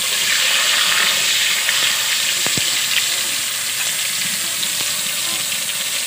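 Tomato, ginger, garlic and green chilli paste masala frying in oil, an even, dense sizzle and hiss up close with a couple of light spatula taps, steady throughout and without talk.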